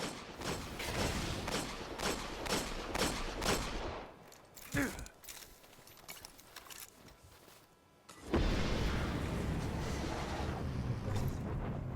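Rapid gunfire from the Firefly perk gun in Destiny, with headshot kills making enemies explode: a burst of regular shots for several seconds, a quieter lull with a sharp blast, then dense firing and explosive noise resuming loudly.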